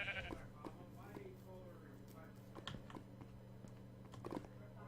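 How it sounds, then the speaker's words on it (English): A pink sheep bleats in a video game, faint and short, among clicks and keyboard taps, with a voice talking close by. "Oh, pink sheep."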